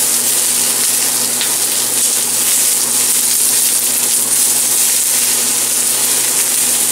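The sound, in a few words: eggplant slices sizzling while frying in a pan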